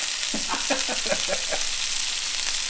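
Fresh-caught fish sizzles steadily in a hot pan on a stove, a constant broadband hiss with a few soft clinks and stirring knocks near the start, close and fairly loud.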